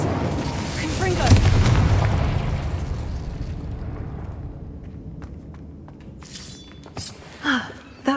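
A Confringo spell explodes in the Hogwarts Legacy video game, a loud rumbling boom that swells and then slowly decays, followed by a few quieter game sounds and pops.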